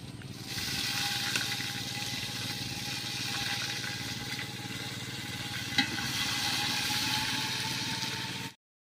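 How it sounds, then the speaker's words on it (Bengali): Spices frying in a pot with ginger paste added, a steady close sizzle hissing continuously for several seconds before cutting off abruptly near the end. "সব কিছু লাল লাল হয়ে ভাজা হয়ে গেছে। ওর মধ্যে দিয়ে দিচ্ছি আদা বাটা"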